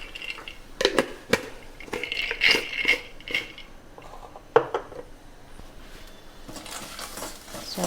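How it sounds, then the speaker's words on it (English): Raw peanuts drop into a pot for millet and ridge gourd khichdi, scattered close rattles and clinks in uneven bursts with quieter gaps between. "so I'm adding some raw peanuts"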